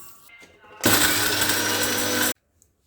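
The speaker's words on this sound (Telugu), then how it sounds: "ఒక రెండు స్పూన్లు పంచదార వేసుకొని మెత్తగా పొడి కొట్టుకుందాం" A mixer grinder whirs loudly as it powders two spoons of sugar, bursting on abruptly, running at a steady high-pitched roar for about a second and a half, then cutting off.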